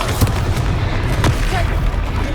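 Confringo fire spell exploding in the video game Hogwarts Legacy, a loud, dense rumble of booms and blasts during combat, with a couple of sharper bursts within a continuous roar.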